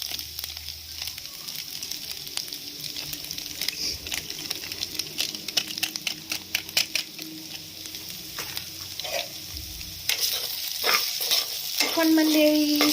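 Maggi noodles with masala fry in a pan while being stirred, a steady sizzle broken by frequent clicks and scrapes of the spoon, growing louder and denser toward the end, with no talk.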